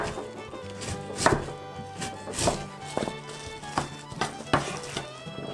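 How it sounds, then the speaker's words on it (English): Knife chopping radish on a cutting board for a Korean water kimchi, a steady series of firm, evenly spaced thuds close by, with no talk. "Okay, now cutting radish."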